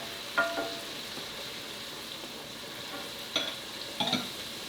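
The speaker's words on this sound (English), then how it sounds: "Go ahead, give it a stir." Green olive pasta with lemon juice is stirred in a pan over a faint, soft sizzle. A few light utensil clinks and scrapes stand out against the quiet cooking hiss.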